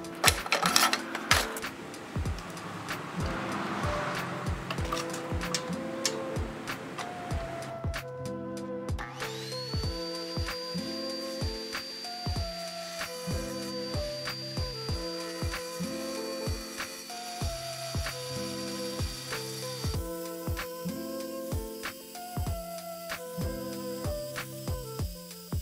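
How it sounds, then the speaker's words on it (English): A tile saw cuts a miter through hard porcelain tile, grinding steadily, its motor whining continuously with repeated rhythmic clicks and knocks over the top. "Let's move on to mitering hard porcelain tile."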